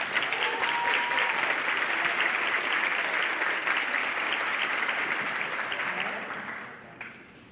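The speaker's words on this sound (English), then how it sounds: "Give them a round of applause." Audience at an eighth-grade graduation ceremony applauding students headed to Northgate High School, a full sustained wash of clapping that fades out near the end.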